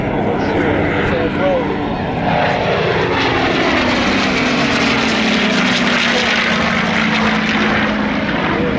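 A B-17 bomber and a Spitfire fly by together at an airshow, a loud roar of propeller engines with a slowly shifting pitch, while a voice talks over it.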